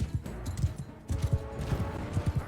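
Horse hooves clip-clop in the Mount & Blade II Bannerlord video game, a steady trotting rhythm of low, close thuds repeating through the clip with no talk over it.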